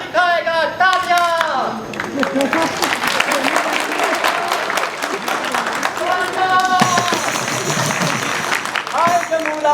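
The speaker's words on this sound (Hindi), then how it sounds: "तालियां।" Scattered clapping from an outdoor crowd watching a street play performed by research scholars, mixed with loud chanting voices and chatter, with claps rising and falling beneath the shouted lines throughout.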